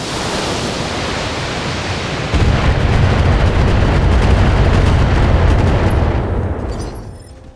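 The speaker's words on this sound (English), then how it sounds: "Firing everything I've got." A BattleTech mech fires a volley of LRM missiles: a sudden, loud roaring rush of launch noise that swells and holds for several seconds before fading away, alone without talk.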